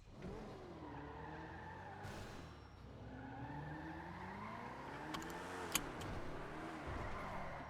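Car engine in GTA V on the NoPixel roleplay server, revving in sweeping rises and falls with tires skidding and squealing throughout, loud and continuous, with a few sharp clicks near the end.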